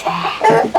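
Chickens on a small farm, a few short close clucks in quick succession, loud and alone without talk.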